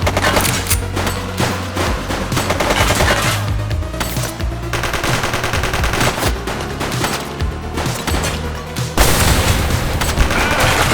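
Sustained automatic gunfire in The Precinct, rapid bursts of shots firing nearly continuously and loud throughout, with a heavier, louder stretch of fire near the end.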